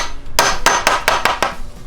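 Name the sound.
hammer tapping a pin into an end grain throwing target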